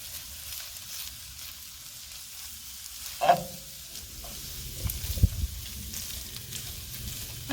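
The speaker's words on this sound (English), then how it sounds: "this has been sauteing in the butter probably like 4 or 5 minutes" Pastrami sautes in melted butter in a pan with a steady, low sizzle, broken by a sharp utensil clink and a few stirring scrapes.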